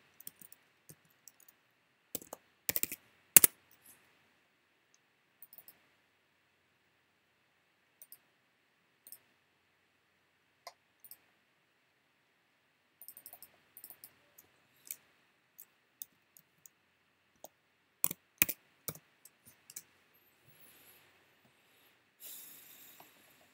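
Sparse mouse clicks and short bursts of keyboard typing on a computer, close and crisp against near silence, arriving in scattered irregular clusters.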